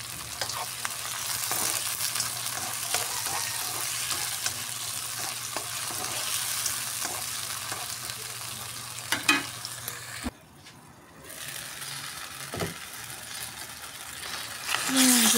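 Tomatoes going into onions and garlic sautéing in a pan for chicken puchero, a steady close sizzle with scattered stirring clicks and a brief drop in the middle, alongside light background noise.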